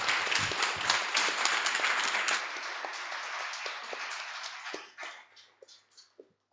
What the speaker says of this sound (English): Can we please give these people a round of applause?